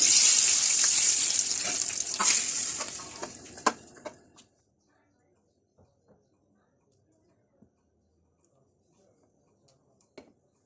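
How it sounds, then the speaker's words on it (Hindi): Hot oil left over from browning onions is poured over a pot of chicken haleem, setting off a loud, bright sizzle that fades over about four seconds, leaving near silence with a few faint clinks. "ब्राउन प्याज निकालने के बाद जो गरम गरम ऑयल है वो हम इसमें डाल देंगे और इसका बघार देंगे।"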